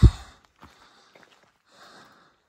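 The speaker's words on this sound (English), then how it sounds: "Just had to go up a little bit of a hill. That's the reason I'm breathing hard" A hiker on the Appalachian Trail, winded from walking up a short hill, gives one sharp heavy exhale followed by a few faint, close breaths and a soft sigh in a quiet outdoor setting.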